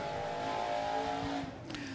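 A Limited Late Model race car runs laps at Thunderhill Raceway, its engine a steady close drone that fades slightly toward the end.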